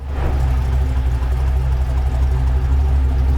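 A 1970 Chevrolet C-10 restomod pickup with an LS V8 rumbles steadily at idle, loud and close, with a deep, even low-end drone throughout.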